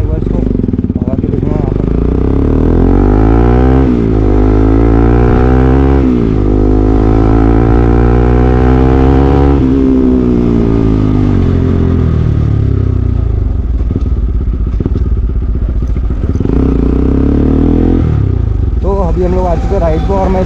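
A modified Bajaj Pulsar NS200 motorcycle engine revs loud and close, its pitch climbing and falling through repeated throttle sweeps, then settling into a rough idle before revving again.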